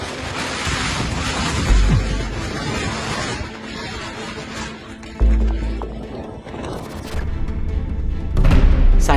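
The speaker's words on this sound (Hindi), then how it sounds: "तूफानी हवाओं का ये मंजर देख रूह तक कांप जाए।" Stormy cyclone winds roar and buffet the microphone near surf and waves, a loud continuous rush with sudden heavy gusts that thump and swell throughout.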